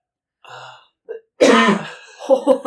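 A single person coughs and clears their throat close to the microphone, two short bursts followed by a louder, rougher cough with a brief voiced tail at the end.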